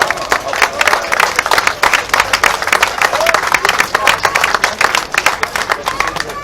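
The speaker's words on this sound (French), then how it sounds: "Sous vos applaudissements généraux" A crowd applauds the winners at a VHC historic rally prize-giving, dense, even clapping filling the whole stretch at close range, with a voice faintly present underneath.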